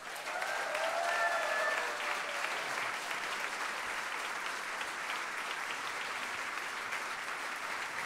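An audience at a concert bursts into sustained applause, a dense crowd of clapping hands that stays loud and even for about eight seconds with no talk over it.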